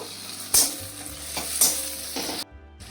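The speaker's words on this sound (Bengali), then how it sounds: "তো রসুনের পেস্টটা একটু নাড়িয়ে ছাড়িয়ে নেব" Garlic paste frying with browned onions in a pan at medium heat, a steady close sizzle broken by a few sharp scraping stirs of a spatula, ending in a brief silence.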